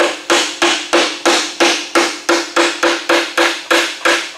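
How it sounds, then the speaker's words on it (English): Steady, rhythmic hammer blows on rusted sheet metal of a junkyard car body during rust repair, about three per second, loud and close, each strike ringing briefly before the next. "I'm going to take my hammer and then I'll gently"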